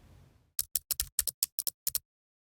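Layered keyboard typing built as a film sound effect: about ten crisp, close key clicks in a quick uneven run, after a faint soft rustle at the start.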